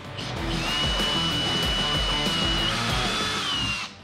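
A power drill bores holes into a plastic golf cup about half an inch below the rim, one steady whirring run lasting several seconds, close and loud, then stopping abruptly.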